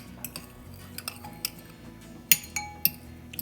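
A fork clinks against a bowl while stirring raw egg yolks for carrot muffins: light, irregular metallic taps and scrapes, close and fairly quiet.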